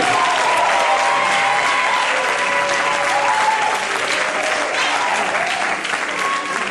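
A church congregation applauds to acclaim the Lord at a worship service, with dense, sustained clapping and crowd noise running steadily throughout, loud and close.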